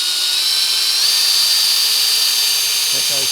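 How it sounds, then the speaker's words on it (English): A loud, high-pitched electric drill whines steadily close up, drilling through a spade's D-handle, its pitch shifting slightly as it bites through, then a few short bumps at the end. "and drill through."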